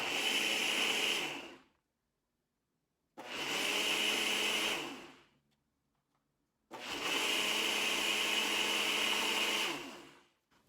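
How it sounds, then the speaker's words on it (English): A kitchen blender whirs through three separate bursts of about two seconds each, separated by short silences, blending cabbage with warm water; the motor is loud, close and steady, with no talk over it. "I'm gonna blend it for a few seconds until I've made a cabbage smoothie"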